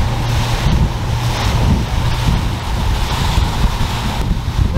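A small boat moving across open water, with a steady roar of waves and wash against the hull and heavy wind buffeting the microphone, no voices.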